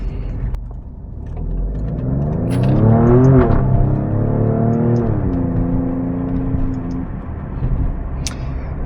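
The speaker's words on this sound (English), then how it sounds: "exhaust note" A 2022 Alfa Romeo Stelvio Quadrifoglio accelerating on a side street, its exhaust note rising in pitch through a gear, then settling into a steadier drone, loud and close with no talk over it.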